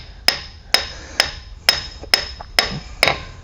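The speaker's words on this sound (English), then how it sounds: "then you just kind of give a little tapper on in with a hammer." Metal hammer tapping an axle shaft into the wheel hub of a 2011-18 Ram 1500, driver side: seven sharp, evenly spaced strikes ringing close and clear, with no talk.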